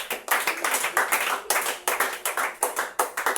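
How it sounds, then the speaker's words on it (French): A church congregation clapping together in steady rhythmic beats, sharp and close, keeping an even tempo for several seconds with no speech over it. "Acclamons pour le roi."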